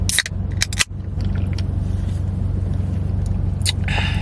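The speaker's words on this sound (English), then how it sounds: "I got Jeff backing in the WRX right now" A Subaru WRX (VB generation) reverses slowly into a parking spot at a shop, a steady low engine rumble running throughout with a few sharp clicks and taps near the start and end.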